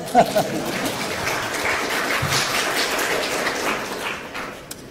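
A conference audience at a lecture claps in a moderate, steady wash of applause across the room, fairly soft and spread out, fading toward the end.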